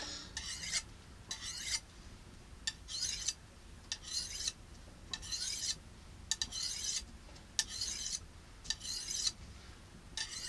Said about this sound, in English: this Lansky's diamond rod, you're going to run into the guard before you're going to run into your finger.